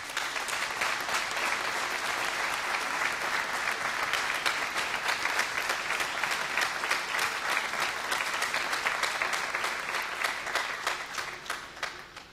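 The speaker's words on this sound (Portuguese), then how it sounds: "todos merecem o nosso aplauso" A large audience applauds steadily at a philharmonic band festival, the dense clapping sustained and fairly loud throughout before tapering slightly at the end.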